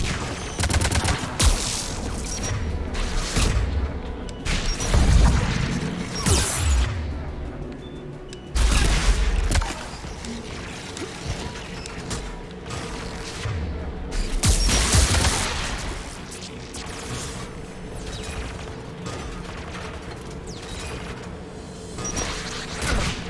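Tower defence guns in Mass Effect Legendary Edition fire in repeated loud volleys and booming bursts, several sharp blasts standing out over a continuous mechanical din, with some faint voices mixed in.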